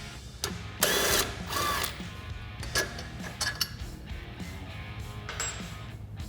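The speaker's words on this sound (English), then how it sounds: "We're going to go ahead and disconnect the sway bar link from the A-arm." A ratchet works loose the sway bar link from the A-arm on a Polaris RZR XP Turbo, giving bursts of metallic clicking and clinks with short pauses, close up and moderately loud.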